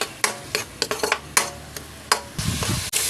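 Seasoned filling for fresh lumpia is stirred in a pan with salt and poultry seasoning, a spoon scraping and clinking against the metal in quick irregular strokes over a soft sizzle.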